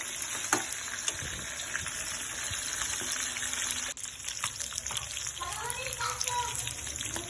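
Chicken liver fries in oil under a lid, giving a steady, dense sizzle with a few soft clatters and a brief dip partway through.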